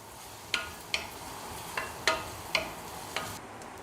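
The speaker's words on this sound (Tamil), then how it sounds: "கறிவேப்பிலை இலைகள் நல்லா இதெல்லாம் வதக்கணும்" Onions, garlic and curry leaves sautéing in a pan for paruppu urundai kuzhambu, a quiet steady sizzle with about six sharp spatula taps and scrapes spaced through it, with no voices.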